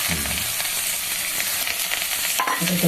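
Something frying and being stirred in a pan while making a rice-and-bottle-gourd payesh with Gobindobhog rice and cardamom; a steady close sizzle runs throughout with scraping stir strokes on top, and no voices.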